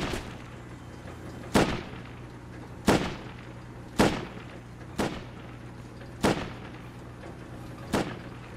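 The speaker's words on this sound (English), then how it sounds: "I think bro's just shooting" Single gunshots in the game Rust during a raid defense, six separated reports at irregular intervals of one to two seconds, moderately loud with short decaying tails and no talking.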